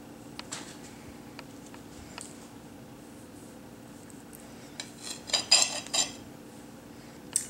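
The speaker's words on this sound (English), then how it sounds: "So, going to cut the eggs." A knife cutting boiled eggs on a dish, giving sparse light clinks and scrapes against the plate, with a small cluster of taps near the end, all faint and close in a quiet kitchen.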